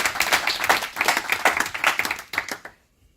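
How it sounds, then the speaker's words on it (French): An audience applauds in a debate hall. Lively clapping with a slightly pulsing rhythm runs for under three seconds, then stops abruptly into silence. "Sous les applaudissements de la salle"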